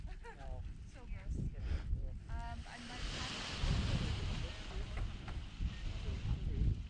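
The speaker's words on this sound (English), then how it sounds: "Wind is fairly brisk, so probably there's some rotor behind the edge." Brisk wind at a paraglider launch site buffets the microphone in gusty rushes and roars, swelling and easing while people talk over it.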